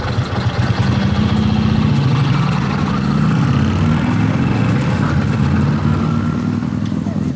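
An old Harley-Davidson motorcycle that had sat unused for over 50 years, its engine running loud and close with a steady throbbing exhaust beat and a slight rise and fall in revs, while people talk over it.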